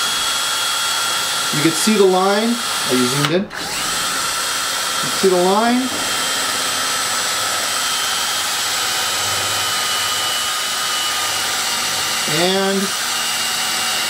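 A power drill bores out a Robart hinge on an ARF model airplane, giving a steady, thin, high whine that runs throughout while someone talks over it at close range.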